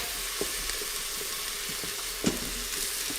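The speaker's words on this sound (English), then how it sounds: "I'm gonna throw in some garlic. Again, it's just about a tablespoon of minced garlic." Minced garlic, about a tablespoon, sizzles in butter inside an Instant Pot, a steady close frying crackle with a few brief stirring clicks and no talking.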